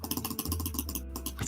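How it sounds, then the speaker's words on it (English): Rapid, frantic clicking of a computer keyboard and mouse during a Don't Starve game session, a dense run of sharp clicks over a steady low hum, close and fairly loud. "Your clicking got even more frantic"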